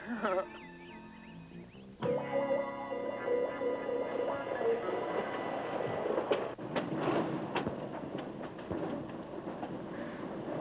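A train clatters along the rails with a steady rumble and occasional sharp clanks, beneath music and intermittent talk.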